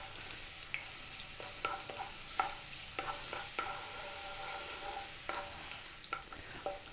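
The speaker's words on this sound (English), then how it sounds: "we're gonna get our ginger and we're gonna drop all that in. Now we're on an above medium heat" Ginger frying in oil over above-medium heat, a soft continuous sizzle punctuated by repeated light scraping and tapping of a utensil stirring in the pan, close and quiet.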